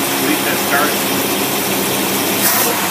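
An engine with a Carter AFB 400 CFM four-barrel carburetor runs with a rough, steady roar and rises slightly in pitch as the big back barrels open, with someone speaking briefly over it.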